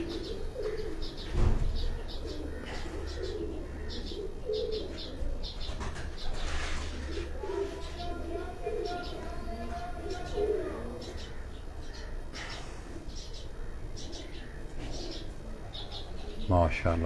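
Pigeons coo repeatedly in low, throaty bursts on a rooftop in Jalalpur Bhattian, with scattered bird chirps and a murmur of voices and background noise throughout.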